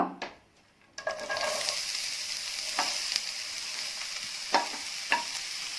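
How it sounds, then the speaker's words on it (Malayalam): Sliced onions hit hot oil in a pan with a sudden loud sizzle after a near-silent moment, then fry in a steady hiss punctuated by a few sharp utensil scrapes and stirs. "ഇനി വഴറ്റാനായിട്ട് സവാള"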